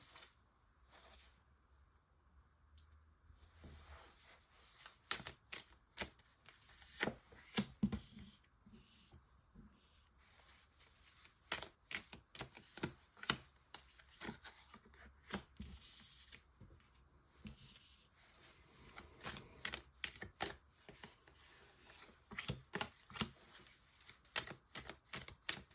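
Tarot cards shuffled and laid out for a nine-card spread, soft papery riffles and quick slaps in irregular clusters, faint and close with no talking.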